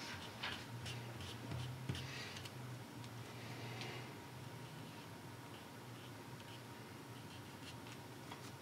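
Pencil scratching softly on paper in short, light strokes while tidying up loose marks in the rough outline of a coffee cup, faint and close with a steady quiet room hiss.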